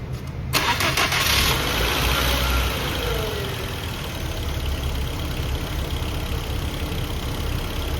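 A Volkswagen engine with its EVAP system deleted cranks briefly and catches. It then settles into a steady, loud idle with a faint uneven note that runs for several seconds.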